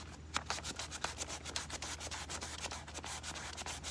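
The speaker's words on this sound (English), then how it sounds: "Maybe right here needs some sanding." Rhythmic sanding strokes rub back and forth on wood, close and steady, each pass a short scratchy burst.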